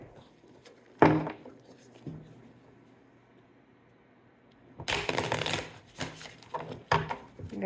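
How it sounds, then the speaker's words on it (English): Cards from an Angels and Ancestors oracle deck by Kyle Gray being shuffled in a tarot reading, a sharp riffle burst followed by a longer run of papery flutters and soft taps, close and alone. "going to give that another shuffle."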